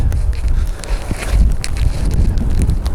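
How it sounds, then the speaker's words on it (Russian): Strong wind gusts rumble and buffet the microphone in a young garden, a heavy low roar that swells and dips throughout with no talking. "О, какой ветер."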